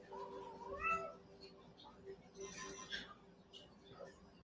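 A house cat meows in the background of a TV program recorded on a phone, a couple of faint, plaintive calls mixed in with muffled television sound.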